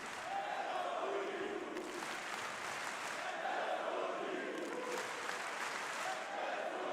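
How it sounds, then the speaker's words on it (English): A large esports arena crowd at the R6 Munich Major, a Rainbow Six Siege tournament match involving G2, roars and applauds in sustained swelling waves, loud and continuous, with shouts rising over the wash of cheering. "And the energy in the crowd rising"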